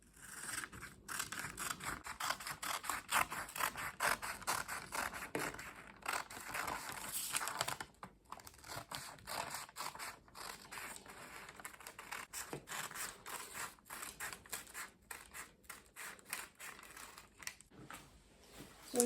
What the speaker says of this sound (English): Next thing is to cut the dress out.